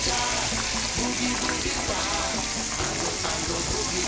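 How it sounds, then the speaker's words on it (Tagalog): Thin-sliced pancetta frying until crispy, with a loud, dense, continuous sizzle close up and light stirring underneath, no talking. "Ganyan lang, ipiprito, ganyan. Hanggang maging crispy, naninipis kasi itong pagkakahiwa."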